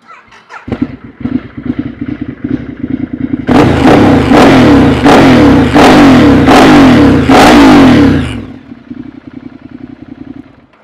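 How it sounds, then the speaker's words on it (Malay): A 2013 Ducati Multistrada 1200 engine cranks and catches, idles with a lumpy rumble, then revs loudly in several sharp bursts before dropping back to idle. "Okay, kita start bagi korang dengar."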